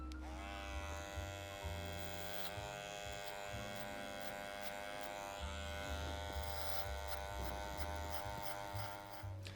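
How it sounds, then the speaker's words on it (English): An electric hair trimmer cuts hair during a professional haircut. Its steady, close buzz runs for the whole stretch without talk, with the pitch dipping slightly as the blades move through hair. "So now I'm going to be creating the strong C-cup area here with my trimmer."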